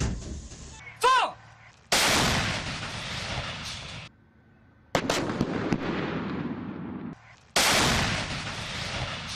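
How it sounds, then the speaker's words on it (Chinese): Three loud artillery blasts from several types of military guns during a live-fire exercise on grassland, each a sharp boom followed by a long rumbling decay, separated by short pauses, with a brief shouted command near the start. "各战车瞄准手根据指挥所标正的射击参数，快速修正方向，并运用多型火炮对目标实施火力压制"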